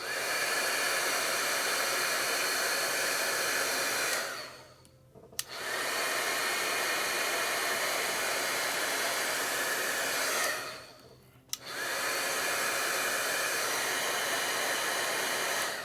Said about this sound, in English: And then once the heat gun is heated up, it happens even quicker.